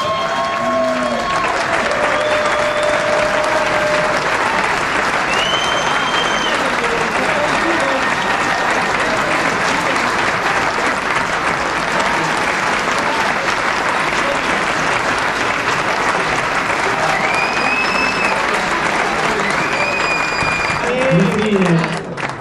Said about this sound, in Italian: Un grossissimo applauso a Johnny Abate!